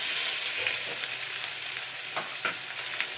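Fish head frying in a pan with onion paste and chopped tomato, stirred now and then: a steady close sizzle with a few scraping spoon strokes and no voices.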